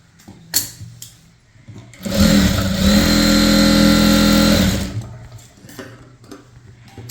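An electric sewing machine stitches the belt of a chudithar pant with one steady, loud, whirring run of about three seconds, preceded and followed by quieter handling noises.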